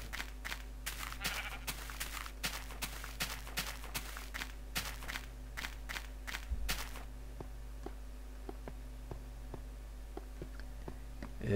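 A Minecraft sheep bleats while in-game footsteps or digging click steadily and rapidly, then thin out into sparse ticks, all over a constant low electronic hum.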